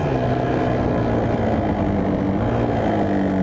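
A Kawasaki KDX 200 dirt bike engine drones steadily under riding, its pitch holding fairly level in first and second gear rather than climbing freely, loud and close with no voices.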